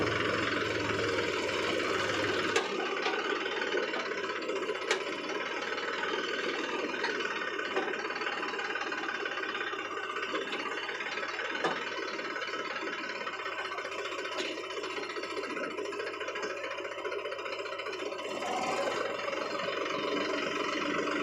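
A tractor engine runs steadily and close by on a farm, a continuous mid-to-low droning with a faint knocking texture that holds throughout with only slight variation.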